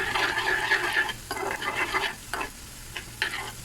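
Cumin seeds and chopped garlic fry in hot oil over a medium flame for a tempering, a soft close sizzle broken by several bursts of stirring and scraping in the pan.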